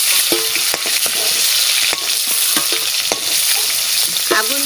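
Fish sizzles steadily in hot oil in a pan, a loud continuous crackle broken by scattered clinks and scrapes of a utensil stirring and turning the pieces.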